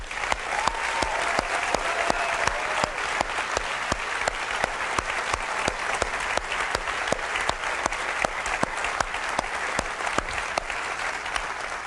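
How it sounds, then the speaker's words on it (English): Sustained audience applause fills the room at a morning launch presentation, dense steady clapping at moderate volume with no voices over it, holding evenly for about twelve seconds. "I'd like to give them a round of applause"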